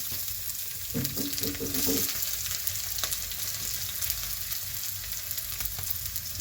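Dry chilli, black cumin and chopped onion fry in a little oil for a drumstick-flower fritter dish, giving a steady close sizzle with a brief burst of stirring clatter early on, no voices.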